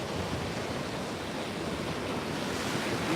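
Ocean waves at a fishing spot produce a continuous, fairly loud broadband wash of surf with some wind rumble, steady throughout with no voices.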